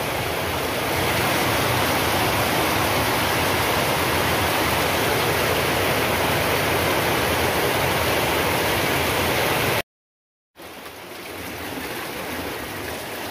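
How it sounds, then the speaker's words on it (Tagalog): Heavy rain during Typhoon Wilma pours as a dense, steady roar, close and loud throughout, cutting out for a moment near the end before resuming slightly softer. "Lakas ng ulan."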